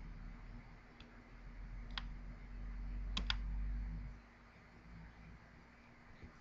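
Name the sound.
typing on a computer keyboard to enter job activity data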